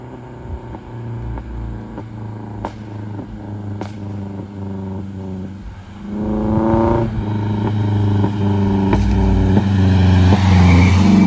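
A detailed car's engine revs and pops while driving, with a steady droning engine note broken by sharp crackling pops before the revs rise into a louder, rising roar, loud and close with no talking.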